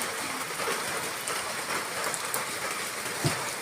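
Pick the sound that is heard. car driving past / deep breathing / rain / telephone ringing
rain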